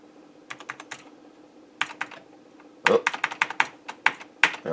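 Keys clatter on an Amiga 1000 keyboard, being tested key by key: sparse clicks at first, then a denser run of sharp presses, close and clear with no talk.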